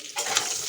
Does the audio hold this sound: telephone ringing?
no